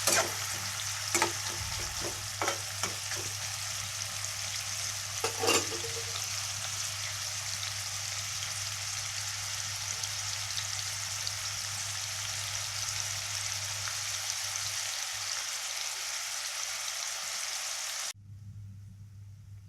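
Chopped onions sizzle steadily in hot oil for mutton fry, a continuous bright frying hiss with a few stirring clatters near the start, then cutting off sharply near the end.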